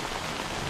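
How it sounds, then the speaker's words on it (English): Heavy rain pours steadily outside a Victorian inn on a remote island, a dense, even hiss of drops with no voices. "The rains are getting stronger."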